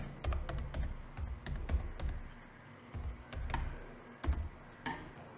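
A computer keyboard is typed on in short, quiet runs of clicking keystrokes, with irregular taps and brief pauses. The sound is close and soft.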